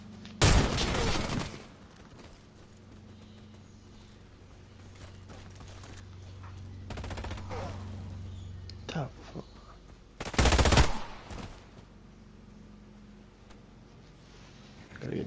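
Gunfire in the video game Warface comes in a few sharp, loud bursts, one early and one later, separated by quieter game ambience and a player talking.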